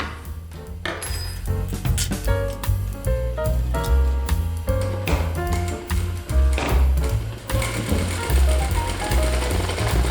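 A straight-stitch sewing machine embroiders with a homemade attachment, its needle hammering out a fast, steady mechanical clatter close up, with brief pauses and restarts.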